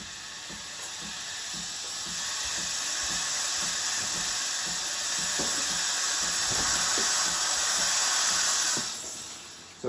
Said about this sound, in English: It will take about 15 seconds for it to start steaming.